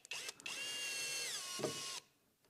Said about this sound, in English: Now we're going to take our 6-inch screw, insert it in there, and drill all the way through.